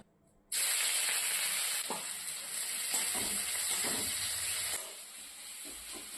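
Chicken pieces hit a hot pan and sizzle loudly for about four seconds, a steady bright hiss with a few soft clatters before the frying eases to a quieter simmer.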